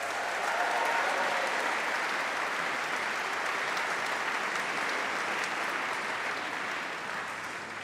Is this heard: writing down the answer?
no